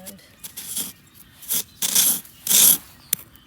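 Metal trowel scraping ice on an untraveled stretch of frozen street after a Portland ice storm, several rough, hissing scrapes of varying length with short pauses between, close and fairly loud.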